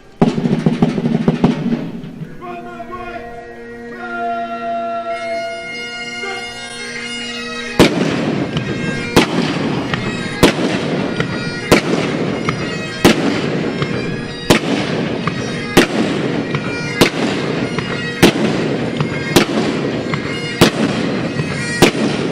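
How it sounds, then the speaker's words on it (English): Highlander musket file firing at the Halifax Citadel, sharp reports cracking one after another at steady intervals of roughly a second, each shot followed by a brief echo, after an opening stretch of droning pipes. "The Highlanders will open the engagement by utilizing the method of file firing, in which each soldier fired in sequence"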